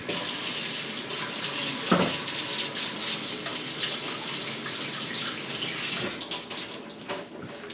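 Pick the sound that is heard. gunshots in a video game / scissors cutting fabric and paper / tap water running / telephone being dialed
tap water running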